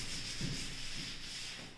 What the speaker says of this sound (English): Please bear the sound of rubbing the board